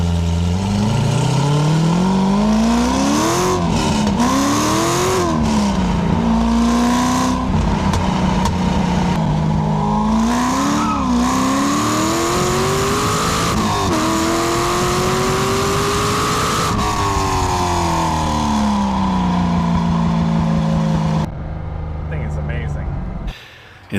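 A 2004 C5 Corvette with a swapped LS7 V8 revs hard around a track at a track day, its loud engine note rising and falling through repeated gear shifts for most of the clip, then cutting off near the end.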